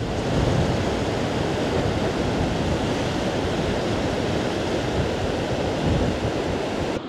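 Atlantic ocean waves and wind on Sidi Kaouki beach in Morocco, a constant loud roar of surf mixed with gusting wind buffeting the microphone, with no one speaking.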